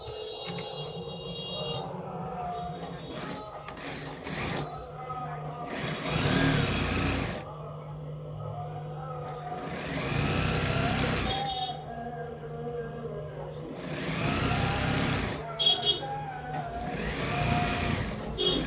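An electric sewing machine stitching a salwar runs in three sustained whirring bursts, steady and close, separated by quieter pauses with lighter handling noise.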